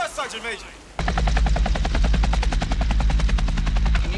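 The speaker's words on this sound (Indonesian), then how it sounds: "helikopter evakuasi pun segera dipanggil agar skuad Bill bisa kabur menuju ke pangkal" An evacuation helicopter in a documentary war scene, rotor thumping in a loud, rapid, steady beat. It roars in abruptly after a brief moment of a voice and continues unbroken.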